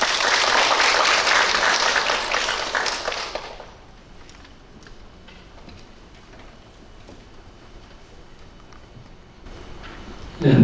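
Audience applause at a Buddhist ritual culture academic conference, welcoming the head monk of a temple to the podium: dense, loud clapping for about three and a half seconds, then cutting off to a quiet room.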